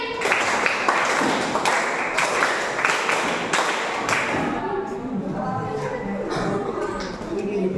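Classroom pupils clap a counted rhythm pattern in groups, a run of sharp, loud claps with brief pauses between sets, and voices overlap them throughout.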